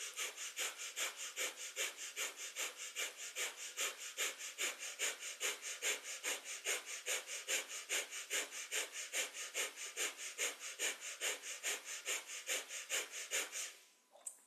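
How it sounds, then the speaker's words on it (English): Breath of fire, a rapid rhythmic yogic breath, pumps through fast steady even nasal exhales and inhales for a long stretch and then stops near the end, with no talking. "Breath of fire is very energizing."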